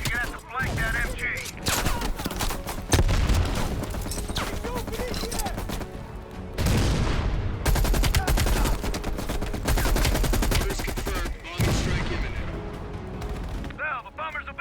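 Close machine-gun fire in the Call of Duty Black Ops Cold War video game comes in long rattling bursts, broken by brief pauses and heavier booms, with voices heard here and there.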